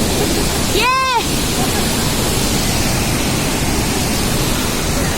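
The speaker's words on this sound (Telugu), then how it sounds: "World's biggest water fall." A continuous, broad roar of water falling at Niagara Falls fills the scene, steady and loud, with a brief whistling tone near the start.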